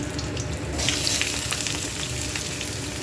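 Chopped onions fry in mustard oil with green chillies and nigella seeds for potol aloo posto, a dense, steady, close sizzle that grows louder partway through, with no one speaking.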